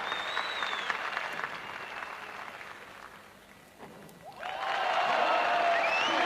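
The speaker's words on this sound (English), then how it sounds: "Well, the crowd loved that." A crowd applauds and cheers at a 1988 European freestyle skateboarding contest, clapping fading slightly then surging back loud and dense as whistles rise near the end.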